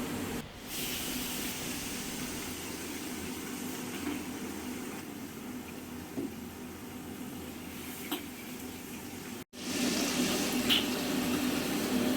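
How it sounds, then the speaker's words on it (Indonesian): Tilapia fries alongside shrimp cooking in padang sauce, the tilapia turning crisp like crackers; a steady, loud sizzling hiss runs throughout with no talking, broken by one brief dropout near the end. "ini adalah proses pemasakan udang saus padang dan nila goreng yang sudah kita pesan"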